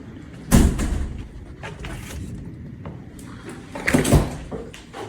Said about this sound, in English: Open the door. That one is pretty heavy.